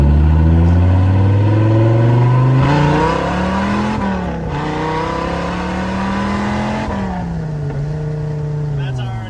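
An exotic sports car's engine pulls hard under acceleration, its rising tone climbing through the gears with brief shift dips, loud and close throughout.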